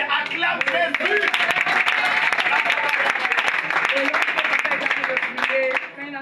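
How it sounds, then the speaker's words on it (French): Congregation at a church worship service applauding steadily and loudly throughout, a dense wash of clapping with cheering voices mixed in that eases slightly near the end. "Acclame Jésus."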